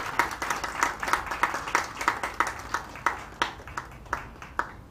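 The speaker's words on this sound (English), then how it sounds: "Won't you give another round of applause as she comes on the stage, ladies and gentlemen?" An audience at the SAMRC Scientific Merit Awards ceremony claps in a steady, rhythmic beat, with each sharp clap clear and evenly spaced across the room. The clapping stays moderately loud throughout, with no talk over it.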